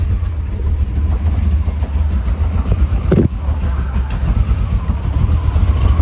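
AK Cobra replica car engine starting for the first time, a steady low rumble running throughout with a brief sharp knock midway, loud and close.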